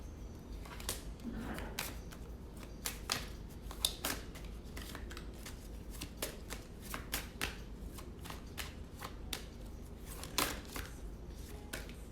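Tarot cards shuffled repeatedly by hand, a steady run of crisp riffling snaps and soft slaps close by, with no talk over it.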